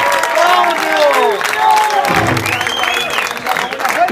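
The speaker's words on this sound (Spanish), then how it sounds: "fuerte aplauso, por favor" Concert crowd at a show in Atlanta applauding and cheering, loud and close, with shouted voices and whistles ringing over the clapping.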